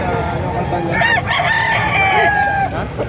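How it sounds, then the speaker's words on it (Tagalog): A rooster crows loudly and close by, one drawn-out call rising and falling, over a busy background of other birds and murmuring. "Ang manok."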